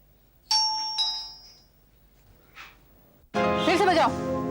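A doorbell chimes twice in quick succession, bright ding-dong tones ringing out close and clear, followed after a pause by a burst of nearby talking.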